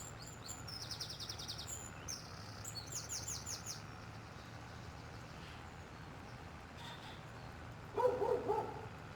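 A dog barking in Farming Simulator 22, a short cluster of barks near the end over a low rumbling engine, after earlier bird chirps, no talk.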